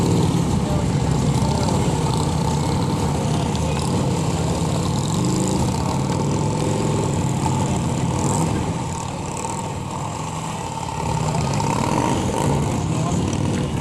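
Police motorcycle engine during a slow-riding demonstration at a block party, a steady loud idle-like rumble that dips briefly before rising again, with voices in the background.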